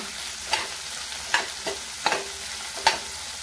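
Medium-sized chopped onions sauté in hot oil in a home kitchen, a steady soft sizzle broken by four sharp spatula scrapes against the pan at roughly even intervals.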